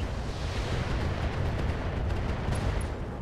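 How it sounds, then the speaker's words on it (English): Artillery fire slamming into an Atlas mech in the RogueTech mod for BattleTech: a dense, rumbling barrage of low booms and explosions rolling continuously for a few seconds. "And then we're going to drop our artillery, once again, on the jaunty angled Atlas."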